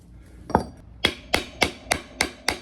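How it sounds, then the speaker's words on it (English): A steel claw hammer strikes an old axe head to drive it onto its wooden handle: one blow, then six evenly spaced sharp, ringing metallic hits, close and loud with no talk. "The regular hammer made an obvious difference."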